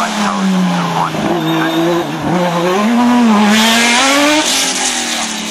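An Osella PA 27 race car screams past at a hillclimb training run, its high-revving engine loud and close, pitch climbing through upshifts and dips, with a brief tire squeal and no audible commentary over it.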